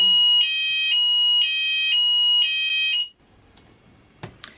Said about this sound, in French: c'est juste qu'ils vérifient si l'alarme incendie fonctionne